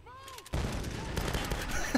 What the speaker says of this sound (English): Fire grenade.